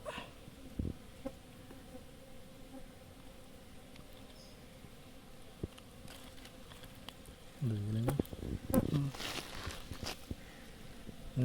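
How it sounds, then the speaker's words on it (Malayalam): Stingless honey bees hum softly around a small home hive, a faint, steady buzz close by, with a few light taps and a person speaking briefly near the end. "ഇതാണ് നമ്മളെ റാണി തേനീച്ച, ചെറുതേൻ്റെ റാണി തേനീച്ച."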